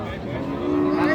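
Cattle low at a busy livestock market where cows and calves are traded, a sustained moo rising over a steady wash of crowd and market noise.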